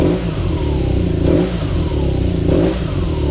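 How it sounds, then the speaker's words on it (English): A BMW Boxer motorcycle engine is blipped on the throttle in a shop, a loud close rumble that rises in two brief revs over a steady idle, with no voices. "This is one of the things that amuses me about BMW Boxer motors. Watch the whole bike shake when I throttle it."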